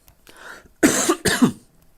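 A pair of sharp, close coughs in quick succession, preceded by a soft breath, then quiet.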